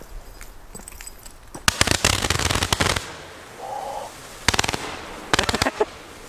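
A Sternstaub firework from the Röder Edition goes off outdoors with loud bursts of rapid crackling, then a brief quieter hiss, then two more crackling salvos.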